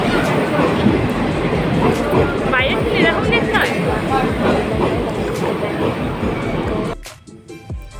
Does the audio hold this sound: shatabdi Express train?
yes